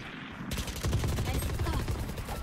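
Rapid automatic gunfire in the video game Valorant rattles out in a dense, continuous burst that starts abruptly after a brief quiet moment, loud and close, with no voice over it.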